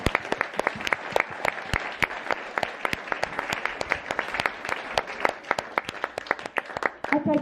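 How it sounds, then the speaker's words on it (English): A small audience at Whakarewarewa Maori Village applauds its Maori warriors' performance with loose, distinct individual claps rattling on steadily for several seconds. "So one more round of applause for our warriors, folks."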